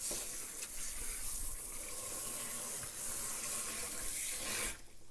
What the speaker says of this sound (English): I'm going to dump them in my sink. And I am going to just rinse them off.